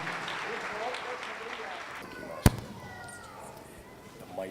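A church congregation at a Friday service in Dubai claps loudly and steadily for about two seconds, then the clapping thins out, broken by one sharp crack and light sounds toward the end.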